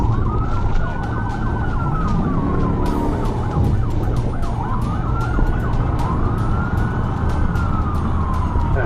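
A state trooper's police car siren wails continuously during a chase of a red Dodge Ram 1500, loud and close with rising and falling sweeps over steady engine and road noise.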